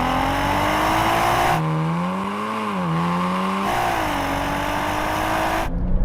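Volkswagen Golf R launching hard off the line in a drag race, a loud, close engine roaring and climbing steadily through the gears with brief dips at each shift, ending in a short burst of noise.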